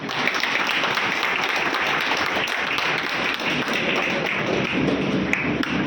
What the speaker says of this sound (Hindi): मैं तमाम लोगों का यहाँ पर इस्तेमाल करता हूँ, बड़े छोटा तालियों से स्वागत हो जाए।